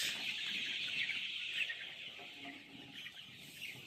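Sonali chickens sick with bloody dysentery cluck softly and continuously, a gentle, slightly distant chorus of murmuring hens with no voices over it.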